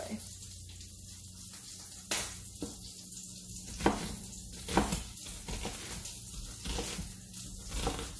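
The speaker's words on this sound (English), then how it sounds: "The pork belly is rendering down on medium-low" Pork belly renders over medium-low heat in a pan, giving a continuous soft sizzle and crackle with occasional sharper pops and faint utensil clinks, fairly quiet and close.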